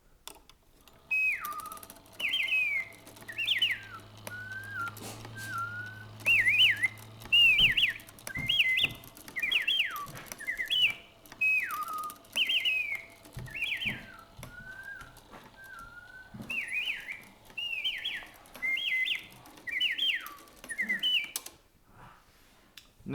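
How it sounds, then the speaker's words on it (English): An Emilian Wehrle singing bird automaton clock plays its mechanical bird song, a repeated series of bright warbling whistle phrases with short pauses between them. A low mechanical hum sits underneath. "We'll set it off, and you can see some of the linkage in action that actually controls the singing bird"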